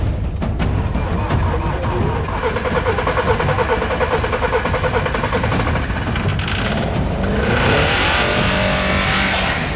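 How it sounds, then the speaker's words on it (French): A turbo-diesel engine, with brake cleaner sprayed into its air intake, revs hard and runs up continuously at close range, its loud roar building with a rising whine toward the end. "le moteur s'emballe"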